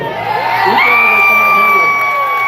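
A large outdoor crowd of about 2,500 at a No Kings Day rally in Youngstown, Ohio cheers and whoops loudly and continuously, with a high sustained yell rising over the din.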